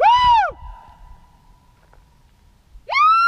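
A loud scream on a cloudy mountain trails off into a long, fading echo, then another scream starts at the end.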